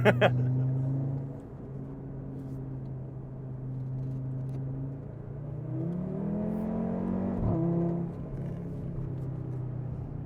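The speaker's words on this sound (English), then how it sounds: "the 5-cylinder sounds so good" A 420 HP Stage 1 Audi RS3 five-cylinder engine idles with a low, throaty hum, then revs up in a rising, raspy surge before settling back, heard up close.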